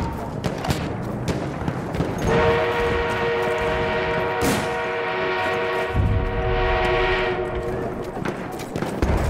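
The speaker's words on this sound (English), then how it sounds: "An enemy armored train is en route." An armored train in the game Battlefield 1 sounds a sustained horn blast of several seconds over rumbling, clattering battle noise and game speech.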